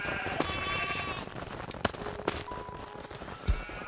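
Sheep bleating in the video game Craftopia, a few faint cries over a steady ambient game background with occasional sharp clicks.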